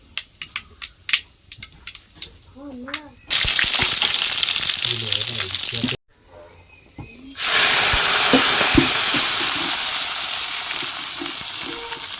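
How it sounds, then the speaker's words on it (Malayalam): Mustard seeds fry in hot oil for tempering a village-style mushroom curry, with soft popping at first, then a loud, steady sizzle that stops briefly and surges again as the hot tempering hisses on. "എന്നിട്ട് വേണം കടുക് വറുക്കാൻ."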